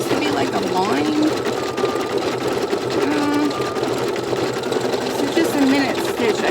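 An embroidery machine stitches an elf sweater design, its needle hammering in a fast, steady mechanical rhythm, loud and close, with a voice talking over it.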